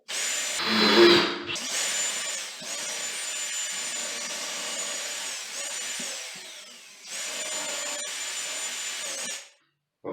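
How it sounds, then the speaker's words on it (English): Power drill boring a small pilot hole into wood for a vanity-mounted toilet paper holder, a close, steady high whine in long bursts with a short pause between, then stopping abruptly. "I'm actually first drilling using a bit of maybe 1/16 or 1/8 of an inch as a pilot and start drilling in the wood"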